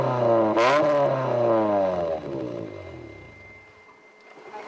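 A car with a loud exhaust is held at about 3,000 rpm during a roadside noise test, producing a close, harsh engine drone that climbs in pitch early on, then sags and steadies as the revs drop.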